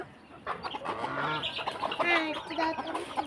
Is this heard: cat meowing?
no